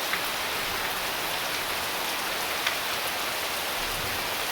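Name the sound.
heavy rain falling in the yard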